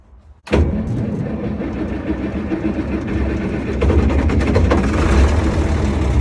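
A John Deere 4030 tractor, a barn find, cranks over and catches, then settles into a loud, steady diesel idle close by that grows slightly heavier toward the end.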